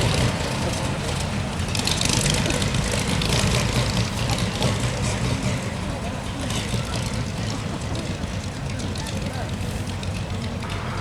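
A 27-litre aero-engined Delage car engine runs continuously as a loud, dense, steady roar for the whole stretch, with voices faintly over it.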